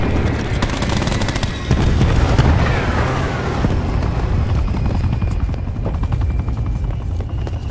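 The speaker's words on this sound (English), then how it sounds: "Cluster grenade going out." Cluster grenade explosions in Black Ops 4, a loud sustained barrage of booms and rattling blasts layered over helicopter rotor drone and gunfire, with no talk.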